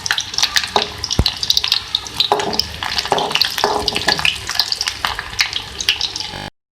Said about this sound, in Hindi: 1/2 कप मैंने घी लिया है। अब मैं इसमें ऐड करूँगी प्याज और लहसुन।